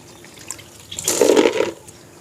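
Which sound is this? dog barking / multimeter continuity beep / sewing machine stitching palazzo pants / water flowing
water flowing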